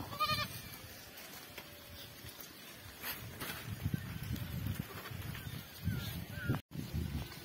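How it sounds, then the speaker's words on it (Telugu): Sheep grazing outdoors let out a few bleats, the clearest near the start, over a low rustling background with faint noise throughout. "గొర్రెలు మేస్తుండవి"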